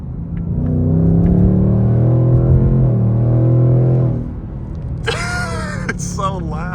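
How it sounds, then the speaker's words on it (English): The factory exhaust of a 2026 Ford Mustang Dark Horse roars loudly and steadily close by, a deep sustained rumble that eases off before people react with excited voices and laughter over it. "Props to Ford for making this exhaust so loud from factory."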